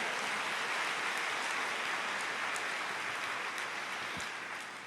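A church congregation applauds during a sermon, a faint, hissing wash of many hands clapping at a distance that fades slightly toward the end.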